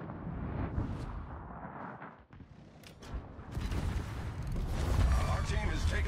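Heavy battleship guns fire in World of Warships, a Tier 10 USS Montana battle: rumbling booms and blasts building into a loud, sustained roar of gunfire and explosions, with radio-style voice callouts mixed in.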